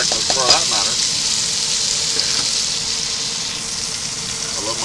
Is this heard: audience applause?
no